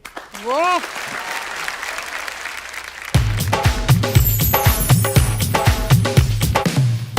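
Audience at a kavi sammelan poetry event bursts into loud applause welcoming a performer, starting about three seconds in after a quiet opening with a brief voice, then sustained dense clapping with rhythmic low thumps from music underneath.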